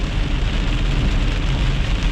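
Heavy thunderstorm rain pours steadily and loudly, a dense unbroken hiss of drops drumming on surfaces with a low rumbling undertone throughout.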